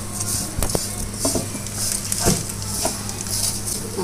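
Grated coconut and sugar are stirred in a pan, giving scattered spoon clinks and scrapes over a steady, fairly loud background hum.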